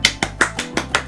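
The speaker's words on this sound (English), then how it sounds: "Now, you hear me clapping" Hands clapping, with six or so crisp, evenly spaced claps in a quick steady rhythm, close and clear, with no talk.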